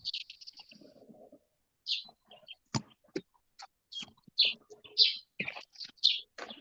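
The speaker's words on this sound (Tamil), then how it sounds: "இதுல பறவைகள் சத்தம் கேட்குது." Small birds chirp and tweet in short, separate bursts with gaps of quiet between them, fairly close and clear. A few soft clicks and a faint low murmur sit underneath.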